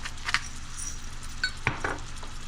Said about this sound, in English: So we're going to saute these until they're soft and just starting to brown.